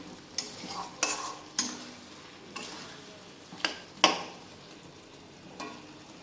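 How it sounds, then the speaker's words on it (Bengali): Tomato and chilli masala sautéed in a pan, quiet sizzling broken by about eight sharp spatula scrapes and taps against the pan at irregular intervals, no talking. "কিছুক্ষণ কষাতে হবে এইভাবে"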